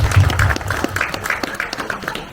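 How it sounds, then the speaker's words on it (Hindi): Applause at a Bardasht Group party as its president, Mohammed Zubaidi, is welcomed: a dense, steady crowd clapping with a few louder individual claps, filling the whole short stretch. "तालियां।"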